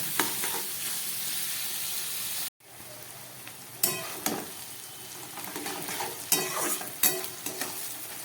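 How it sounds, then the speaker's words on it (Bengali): Onions frying in a pan for biryani, a dense close sizzle that cuts out briefly, then returns with repeated scraping stirs and crackling bursts over a continuous hiss, with no talking. "ভালো করে আমি পেঁয়াজটাকে এবারে ভেজে নেব"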